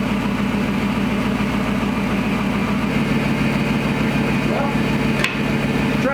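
A deep, steady Gen 3 Hemi V8 idle from a 1952 Dodge pickup truck with exhaust fitted rumbles continuously with a low, even throb, loud and close, with a brief faint click near the end.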